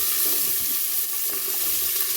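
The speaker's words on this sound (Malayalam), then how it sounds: "അപ്പം അതിലേക്ക് നമ്മുടെ വെജിറ്റബിൾ എല്ലാം കൂടി ഇട്ട് കൊടുക്കുക." Vegetables, including carrot, onion, tomato, green chili, crushed ginger and garlic, hit a hot pot with a loud, dense, continuous sizzle, close and unbroken throughout.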